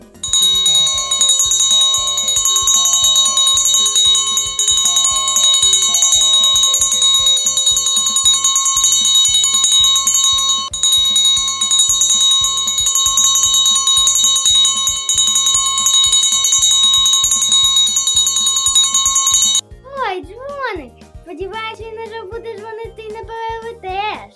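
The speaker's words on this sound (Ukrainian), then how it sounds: "Дзвонить перший дзвоник нового навчального року." School first bell ringing to open the new school year, a loud continuous electric bell that rings unbroken for about twenty seconds, then cuts off as a voice begins speaking.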